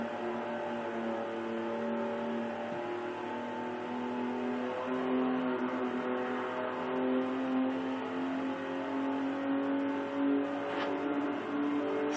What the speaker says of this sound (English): Stupid cars you're driving on a road that I don't want you to drive on.